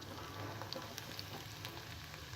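Onion and green chilli pieces, added with tempering seeds to hot oil in a pan on the stove for a cauliflower pepper fry, sizzle steadily up close with a dense, even crackle and small pops, without talk.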